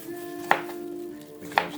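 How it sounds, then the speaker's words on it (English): A knife dices fresh pineapple on a cutting board for a smoothie, giving two crisp chops about a second apart over a faint steady background hum. "So I'm going to dice this up"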